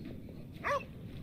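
A dog in The Inquisitor gives a single short whimpering yelp, fairly close, rising briefly above quiet ambient background.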